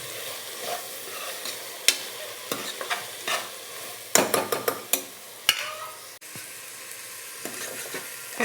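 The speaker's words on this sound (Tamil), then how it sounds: "அடுத்து தக்காளியை போட்டு நல்லா வதக்கணும்" Tomatoes and onions sauté in a pan, with a low sizzle broken by sharp clacks and scrapes of a stirring spoon, irregular and close, loudest in a burst near the middle.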